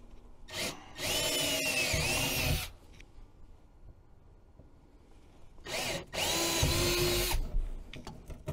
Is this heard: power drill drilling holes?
yes